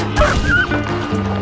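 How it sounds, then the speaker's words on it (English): A dog in Red Dead Redemption 2 gives loud close barks and yips with a whimpering edge, set against a steady droning background, and no one speaks. "Damn dog."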